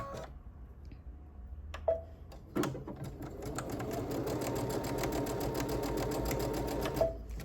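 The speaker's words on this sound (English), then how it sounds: "And then sew right down that line." A sewing machine stitches quilt pieces along a marked line, starting with a few clicks and thumps, then running in a steady, close, rapid mechanical hum with fine ticking for several seconds.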